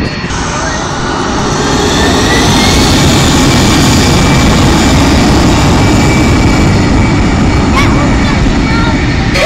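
A jet airliner takes off at Manchester Airport with a loud, continuous roaring rush close by, heavy wind noise blending into the engine thunder.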